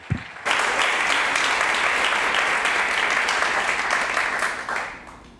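A church congregation at a Sunday worship service bursts into loud, sustained applause that fills about five seconds, dense and steady, before tapering off near the end.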